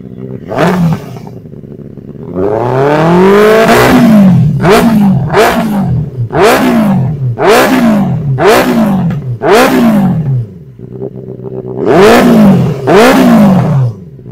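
A Benelli 600i superbike engine catches and then revs hard in repeated sharp blips, each roar rising and falling. The engine is loud and close, with no talking.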